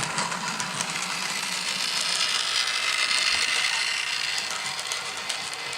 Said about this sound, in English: Train bumbling along here.